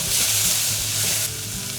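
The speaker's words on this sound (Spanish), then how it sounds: "removemos bien para que se tueste un poquitín todo lo que hemos echado." Eggplant filling with sweet paprika stirred and frying in a pan, a loud steady sizzle with scraping stirring strokes, alone without talk.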